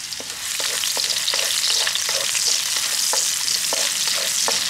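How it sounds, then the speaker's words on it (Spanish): Onion sizzling in a frying pan for chilaquiles, a steady bright hiss with repeated small spatula scrapes and taps, close and without talk. "Le vamos a poner cebolla ahí al sartén"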